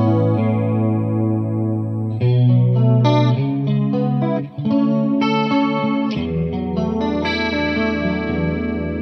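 Electric guitar through a DemonFx Mini Chorus pedal on a dimension-like setting, playing clean chords and arpeggios with a wide, shimmering chorus wash; steady, close and continuous, with no talking.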